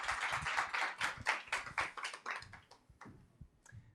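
Audience at a women in agrifood summit gives a short burst of applause for a speaker, a quiet, fairly thin clatter of clapping that thins out and fades toward the end.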